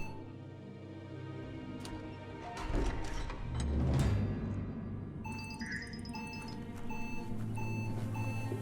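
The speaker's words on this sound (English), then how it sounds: "that beeping sounds kind of like a fire alarm" A high-pitched electronic alarm in the video game Biomutant beeps in repeated short, evenly spaced tones over a low, rumbling game background, fairly faint overall.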